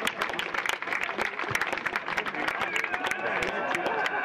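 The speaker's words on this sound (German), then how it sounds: "Ich bitte noch einmal um einen herzlichen Applaus hier für alle Aktiven und für die tolle Aktion." Crowd applause at an amateur football match between TSV Chemie Premnitz and Jacobi All Stars, steady clapping with crowd noise and a faint hubbub of voices throughout.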